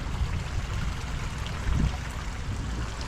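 Little garden pond water feature trickling and gurgling steadily nearby, a soft continuous flow with a brief splashy swell midway.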